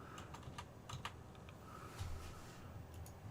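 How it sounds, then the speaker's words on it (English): Rapid, irregular clicky keystrokes on a computer keyboard, close and fairly quiet, with several sharper taps standing out and no talking. "You guys, don't my keyboard sound awesome?"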